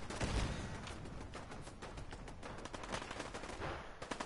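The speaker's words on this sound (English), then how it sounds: "Explosions and everything." Dense gunfire and explosions from the Fallout 4 video game, a continuous rattling barrage of shots with a heavier blast at the start, steady and loud throughout with no talking.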